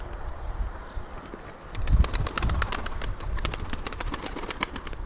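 Misk pigeons coo softly, then a burst of wing flapping and fluttering rises near the middle and continues in quick clattering beats, close by with no talking.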